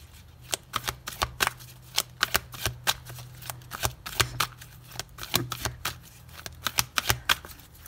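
Tarot cards shuffled by hand in a steady run of crisp riffling bursts, close up and fairly loud, repeating quickly over a low constant hum with no talking.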